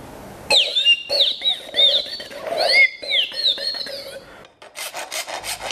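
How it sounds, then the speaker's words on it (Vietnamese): A homemade instrument built from a water bottle and a straw gives bright, warbling birdsong-like whistles in quick trills and chirps, played alone with a short rasping sound near the end. "Bây giờ mình có thể tạo ra được cái âm thanh trong trẻo của những tiếng chim ở trên rừng."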